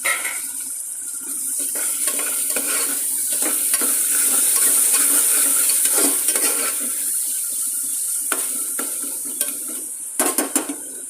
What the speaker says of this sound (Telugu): ఉల్లిపాయలు కొంచెం ఎర్రగా వేగిన తర్వాత టమాటో ముక్కలను వేసుకోవాలి